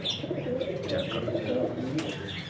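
Pipla breed pigeons coo in soft, repeated throaty rolls close by, with a few brief chirps and a wing flutter among them.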